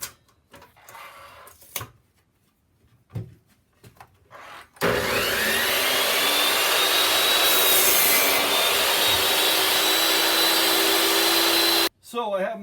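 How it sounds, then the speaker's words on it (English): A miter saw set to 45 degrees cuts the corners of a wooden serving tray, a loud sustained whining cut lasting about seven seconds, preceded by brief clatters and quiet handling, then stopping abruptly. "So I have my saw set at a 45-degree miter. I'm gonna cut these corners out."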